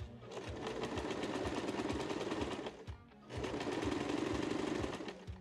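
Sewing machine running steadily while stitching the front center seam of a skirt, a loud continuous buzzing run that stops briefly near the middle, then resumes at the same pace.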